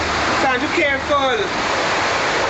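Floodwater from Hurricane Sandy rushes in with force, a loud steady roar of churning water, while a person speaks briefly over it.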